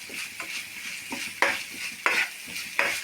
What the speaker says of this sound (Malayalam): നന്നായി ഫ്രൈ ആവട്ടെ.